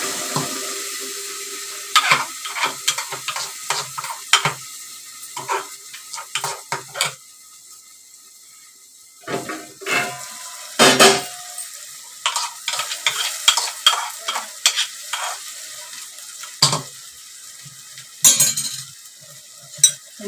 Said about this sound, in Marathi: चांगलं ढवळून घ्यायचं व्यवस्थित. तेलावर फिरलं पाहिजे.